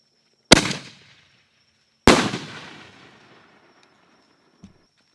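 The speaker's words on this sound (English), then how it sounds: "Next up are 3 Hellcat cans from Spirit of 76." Three Hellcat fireworks cans from Spirit of 76 fire on a July 4th display: two sharp, loud reports about a second and a half apart, each trailing off into a crackling decay, then a faint thump near the end.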